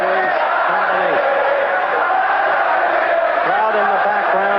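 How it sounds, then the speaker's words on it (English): A boxing crowd roars in encouragement for Jean-Claude Bouttier during his fight with Carlos Monzon, a sustained distant swell of cheering and shouts that sits under a commentator's voice throughout. "Crowd in the background exalting Jean-Claude Bouttier on."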